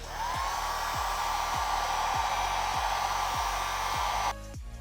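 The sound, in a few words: heat gun heating dirt bike graphics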